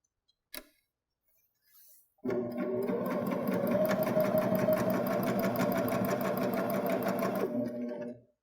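A Baby Lock Jazz II sewing machine with a plain hemmer attachment starts after a couple of soft clicks and runs steadily for about six seconds, a fast, even mechanical chatter close up before stopping.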